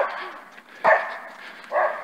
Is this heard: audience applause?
no